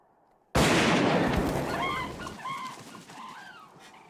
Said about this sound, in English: we hear a gunshot.